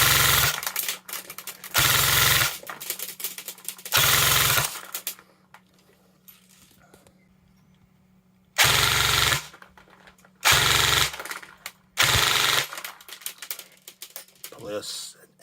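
A Nuprol Nomad Bravo AK airsoft gun fitted with a Perun AB++ MOSFET fires in loud, rapid full-auto bursts, about six short volleys separated by pauses, with a faint voice between them.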